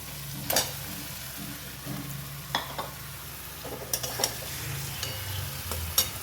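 Chicken pieces frying in a pan with ginger garlic paste and coriander powder, a steady close sizzle with scattered scraping stir strokes and light clinks throughout.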